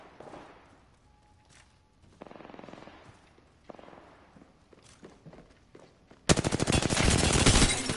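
Video game gunfire rattles in scattered bursts alongside footsteps, then erupts into a loud, sustained automatic volley near the end, with no talking over it.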